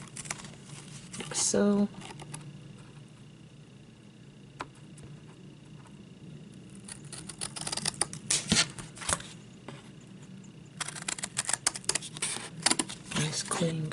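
Scissors cut along a line through a piece of Capri Sun juice box pouch, giving close crinkly snips and rustling that pick up in the second half, with a brief voice near the start.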